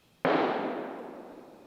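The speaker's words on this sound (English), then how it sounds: "there's actually another guy hunting on the neighboring property, and you guys heard his gunshot" A single sharp gunshot cracks out from a hunter on a neighboring property, an abrupt report followed by a long, fading echo across open ground.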